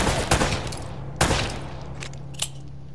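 Gunfire in Uncharted, a short burst of shots and then a single sharp crack with a few lighter pops after it, loud and close with nobody speaking.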